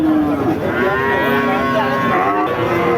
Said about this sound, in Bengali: হাড্ডিসার গরুগুলো এইদিকে একটা দেখতে পাচ্ছেন দর্শক ডবল বডির গরু